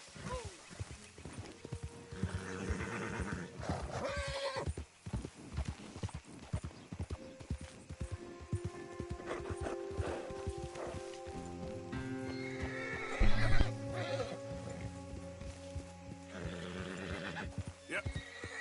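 A horse in Red Dead Redemption trots with clear clip-clop hoofbeats and lets out a loud neigh, over background game music and someone talking.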